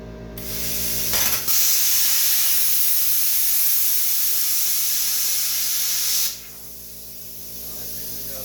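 A Warfox CUT50D plasma cutter slices through 1/4 inch carbon steel with a loud, steady hiss lasting about five seconds. A sharp pop comes near the start, and the hiss cuts off abruptly to a low hum.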